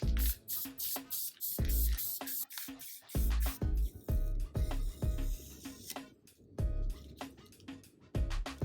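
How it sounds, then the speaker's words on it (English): Regular spray paint hisses onto the brim of a growler being turned into a flower pot, coming in short close bursts separated by brief gaps, with small clicks at each press. "I'll peel that off and just use some regular spray paint."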